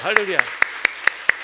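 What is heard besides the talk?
congregation applause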